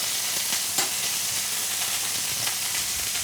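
A venison fillet fries in butter in a pan, giving a steady, loud, continuous sizzle with faint crackles and no voices.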